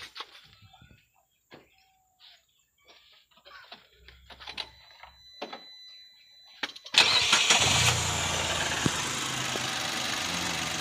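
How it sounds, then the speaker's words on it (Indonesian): A Nissan car engine cranks and catches at about seven seconds, then settles into a steady, fairly loud idle after a stretch of quiet with small clicks and shuffling. "coba dihidupin mesinnya"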